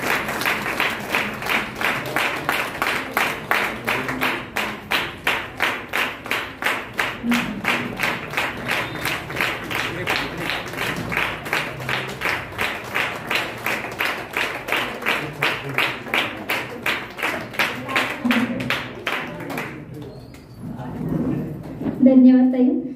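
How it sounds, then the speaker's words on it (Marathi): Audience applause at a women's gathering in Katraj, a long, steady burst of rhythmic clapping from many hands, loud and close, that fades out near the end as a voice starts. "जोरदार टाळ्या वाजल्या पाहिजेत."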